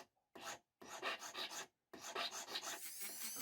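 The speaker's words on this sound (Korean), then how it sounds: "고운 사포바로 둥근 부분을 다듬습니다." Short bursts of close, scratchy rasping as a fine sandpaper stick is rubbed back and forth over brass, separated by brief pauses.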